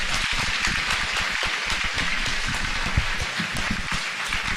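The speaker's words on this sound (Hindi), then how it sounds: "दोनों हाथ उठाए," An audience at a Jain religious ceremony claps hands steadily, a dense, loud, sustained patter of many hands with no pause.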